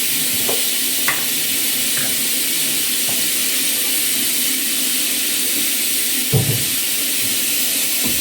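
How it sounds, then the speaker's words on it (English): Chicken deep frying in hot oil, a steady close sizzle and hiss with a few faint clinks and a brief bump of stirring partway through. "let's use the oil to deep fry it fast so that I can dry it in the oil"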